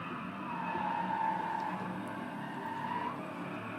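A car drifts through a long slide in the racing game Driveclub, driven with a Thrustmaster T80 wheel; the engine drone and tire skid hold steady and moderately loud for several seconds, with no voices.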